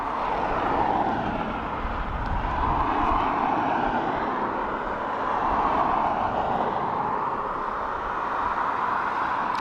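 Aer Lingus airliner arriving from Milan at Dublin Airport, a steady broad engine rumble that swells and eases slightly at moderate distance, with no talk.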